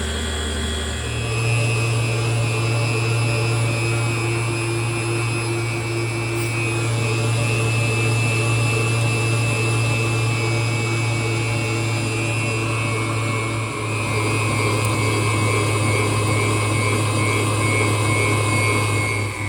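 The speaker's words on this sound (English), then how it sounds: "we'll turn our mixer back on and we're gonna mix it up" An electric mixer whirs steadily as it beats Southern caramel cake batter in a bowl, a constant close motor hum with a slight pitch shift partway through.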